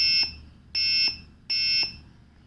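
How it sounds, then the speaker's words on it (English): An Arduino-driven buzzer wired to a push button sounds three loud, steady electronic beeps, each lasting about three-quarters of a second with short gaps between, close and alone. "when I press, the buzzer will produce sound"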